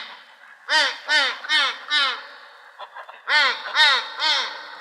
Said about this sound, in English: a duck came waddling down the walk